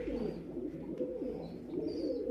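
Domestic pigeons released to fly overhead coo in a soft, continuous low murmur throughout, several birds close by with no talking.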